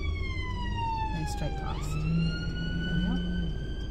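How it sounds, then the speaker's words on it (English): An ambulance siren wails as it passes a car on a wet road, its rising and falling tone sweeping down in pitch as it goes by, loud over road noise while a driver talks. "Oh, it's an ambulance."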